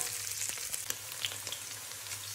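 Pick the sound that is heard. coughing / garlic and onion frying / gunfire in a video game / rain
garlic and onion frying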